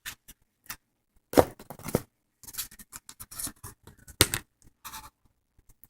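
A knife slices the skin off a salmon fillet in a home kitchen, giving quiet, scattered scraping and cutting strokes in short irregular bursts with pauses between them.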